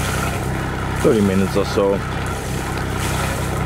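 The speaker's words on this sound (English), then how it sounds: "I decided to start up my engine again and let it run" A Beta Marine 28 three-cylinder diesel engine idles aboard an Alberg 37 sailboat, a steady low rumble that continues throughout while someone speaks briefly over it.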